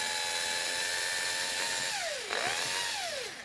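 A Panasonic EY7441 cordless drill driver with worn brushes whines steadily, then its pitch sags and swoops up and down unevenly near the end as the motor falters.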